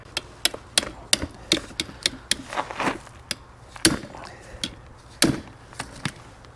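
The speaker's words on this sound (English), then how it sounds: "Let me smack it with a hammer." Sharp hammer blows against a stuck, rounding bolt on a Subaru Outback power steering rack, a dozen or so irregular metallic knocks at close range.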